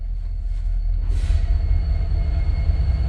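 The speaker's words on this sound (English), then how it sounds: "Train's going overhead." A train crosses overhead above an old railroad culvert, making a loud, continuous low rumble that fills the space beneath. A brief hiss rises partway through, and no voices are heard.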